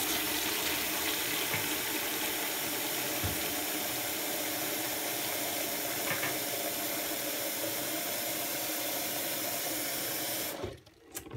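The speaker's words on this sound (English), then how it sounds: "I'm going to fill this up about 3/4 of the way with hot water." Hot water runs steadily from a tap into a bucket as a continuous broadband rush, close and even for about ten seconds before cutting off, with no talking.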